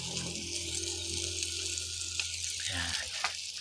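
Squid sizzles steadily in a hot pan with soy sauce poured in, a loud continuous frying hiss with some liquid bubbling and faint talk underneath.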